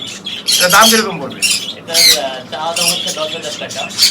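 A male Alexandrine parakeet, about a year old, squawks loudly and repeatedly at close range, harsh grating calls coming in bursts with brief pauses between them.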